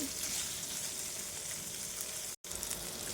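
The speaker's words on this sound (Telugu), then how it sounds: "పచ్చిమిర్చి కొంచెం వేగినాయండి" Green chillies fry in a pan with a close, continuous sizzle that cuts out for a split second before carrying on.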